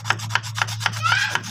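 Metal file scraped in even, regular strokes over a motorcycle clutch part during a running-clutch repair, about six strokes close and loud over a steady low hum.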